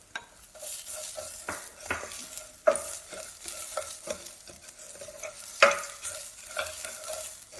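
Onion stirred into toasted rice in a pan for Mexican rice, with soft sizzling beneath repeated scraping strokes and a couple of sharp utensil knocks against the pan, close up and without talk.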